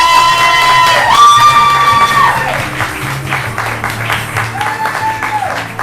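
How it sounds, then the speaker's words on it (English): A crowd claps and cheers loudly, with a whooping voice rising over the applause before it gradually thins out. "Everybody give a big round of applause for Ron, Don, and Martelli!"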